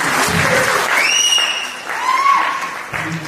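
An evening gathering at The Sensory Experience Meet 2025 breaks into crowd clapping, with a few rising whistle-like tones cutting through the steady patter of hands.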